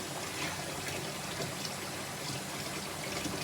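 Tap water runs into a large sink being filled for washing wigs, a steady soft rushing flow throughout with no voices.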